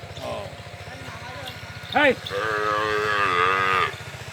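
Cattle being herded home by herders, several loud moos rising over a rhythmic low rumble, with people talking underneath.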